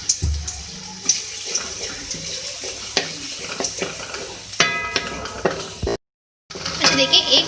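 Chopped garlic stirred in hot oil in a pan, a busy run of scraping and clinking spoon strokes over a steady sizzle, with a brief dropout near the end.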